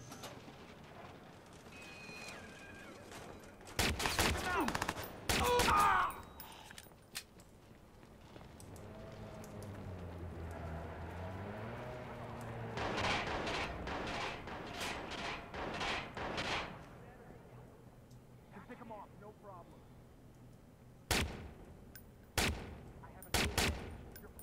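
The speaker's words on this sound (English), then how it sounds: "I wonder what they're shooting at." Bursts of gunfire from a Watch Dogs shootout on Xbox One, with sharp volleys near the start and again toward the end, a louder stretch of rapid shots in the middle, and game chatter and ambient sound between them.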